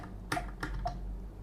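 Three separate clicks of computer keyboard keys during setup of a Mac Mini M4, close and crisp over a quiet room hum, with no talking.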